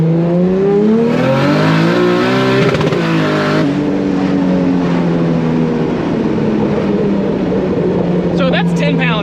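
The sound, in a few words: 2JZ DCT swapped BMW E30 accelerating hard in second gear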